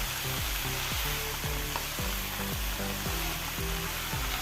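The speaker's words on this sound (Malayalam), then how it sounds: "നല്ലപോലെ ഒന്ന് ഇളക്കി കൊടുക്കാം" Palak and potato stir-fried in a pan, sizzling steadily, with rhythmic scraping strokes of a spatula stirring the vegetables about twice a second, close up and with no talking.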